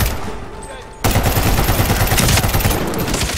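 Loud bursts of rapid gunfire erupt suddenly and keep rattling close by in the Medal of Honor video game battle, with a voice faintly under the shooting.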